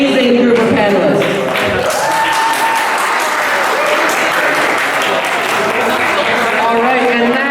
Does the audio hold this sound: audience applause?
yes